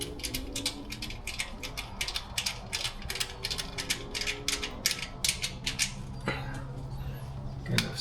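A ratchet tightening down a catch can fitting on a Subaru WRX, giving rapid, evenly spaced clicks in quick bursts close by, then a short pause and some brief handling noise.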